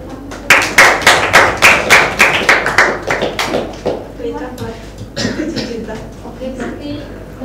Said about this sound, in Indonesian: Tepuk tangan buat kelompoknya Lintang.